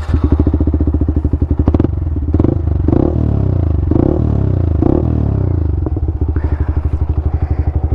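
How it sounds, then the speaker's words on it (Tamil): A modified Yamaha R15 V3 motorcycle revs close by, its exhaust blipping in sharp bursts with loud crackles and pops between throttle stabs, then settling into a fast, rough idle. "ஸோ எக்ஸாஸ்ட் நோட் மட்டும் கேட்டுட்டு நம்ம அப்படியே வாங்க ரைட் போயிடுவோம்."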